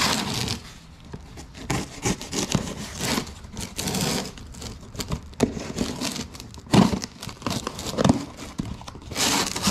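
A knife or blade cuts and tears open a package holding a replacement car engine computer unit for a Dodge Durango, with close scraping, ripping and rustling in irregular bursts.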